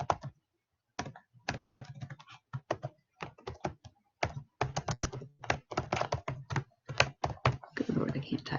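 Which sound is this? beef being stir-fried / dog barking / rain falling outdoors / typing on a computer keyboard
typing on a computer keyboard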